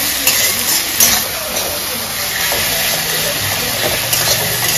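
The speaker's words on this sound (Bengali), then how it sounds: "এখন টমেটো দিয়ে দিই। টমেটো একটু ভেজে নিই।" Tomatoes fry in a pan for a Bengali-style lunch, giving a steady, close sizzle with faint stirring scrapes and occasional clinks throughout.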